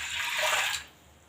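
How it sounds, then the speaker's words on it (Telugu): Water pours steadily into a pressure cooker holding washed toor dal, a close, bright splashing stream that cuts off after under a second, leaving quiet. "కడుక్కొని ఇందులో నీళ్లు పోసుకోండి"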